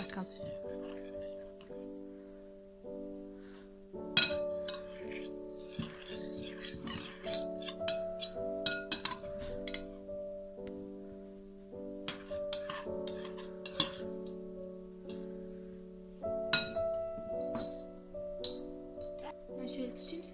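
A spoon clinks repeatedly against a bowl while slime is stirred, with irregular bright taps over steady background tones and nearby voices.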